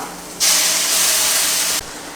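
Ground coconut paste hits hot cooked tomatoes in a pan for an egg curry, triggering a sudden loud steamy sizzle that holds for over a second before cutting off sharply; nobody speaks.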